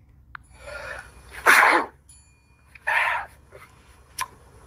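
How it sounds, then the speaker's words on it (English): A man sneezes loudly, close up, with a couple of sharp explosive bursts separated by breathy sounds and a short click, no talking over it. "Did he just sneeze into his nose, sneeze from his nose, and then eat it up with his mouth?"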